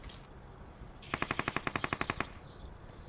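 Rapid burst of automatic gunfire in PUBG Mobile, about a dozen evenly spaced shots in quick succession, loud and close, followed by fainter high-pitched game effects, with no talk.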